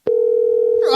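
A steady telephone tone sounds loud and continuous for almost a second while a call is placed, with a voice starting as it ends.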